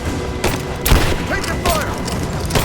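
Gunfire in Rise of the Tomb Raider, bursts of shots cracking repeatedly in an irregular volley, with voices shouting over the shooting.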